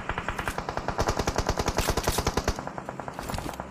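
Automatic gunfire in the mobile shooter PUBG Mobile, a rapid, evenly spaced burst of sharp shots lasting about two and a half seconds, then fading into quieter rumble.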